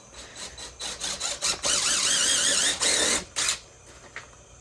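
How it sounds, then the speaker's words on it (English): A power drill whirs in short bursts, then a longer steady grinding spell as it bites into a 6x6 wooden beam, drilling screw holes, close and fairly loud, ending abruptly. "just drilling the holes where the screws are gonna go."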